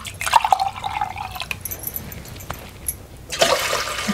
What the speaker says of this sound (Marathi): अजून थोडंसं आपण मध्ये पाणी घालूया।